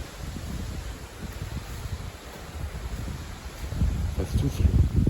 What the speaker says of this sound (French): Donc voilà, le vent est assez fort